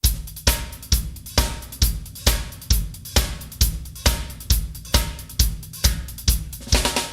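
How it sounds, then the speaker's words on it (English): Snare drum played with the stick laid on the rim and lifted off the head, giving sharp woody rimclicks in a steady even pulse of about two hits per second, close and alone. "overtone with the rim by pushing the stick just on the rim but taking it off the drum head like this."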